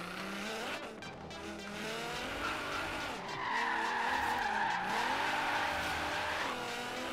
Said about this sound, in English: Drift around a nighttime paradise in the Nissan GDR 2017